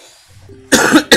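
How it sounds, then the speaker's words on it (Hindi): A person giving a Hindi science lesson coughs twice, two loud, close, harsh bursts in quick succession after a moment of quiet breathing. "सो सॉरी खांसी की वजह से वीडियो में आप लोगों को डिस्टर्बेंस हो रहा होगा"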